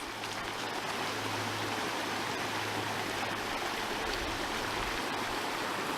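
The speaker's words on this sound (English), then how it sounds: "The water is super freezing, but it is super beautiful." A cold mountain stream flows in a constant, close babbling rush of water, steady and fairly loud, with no talking.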